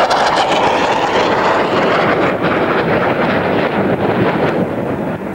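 A Grumman A-6 Intruder military jet makes a loud, broad, sustained roar that fades slightly near the end, with a windy rushing quality and no voices.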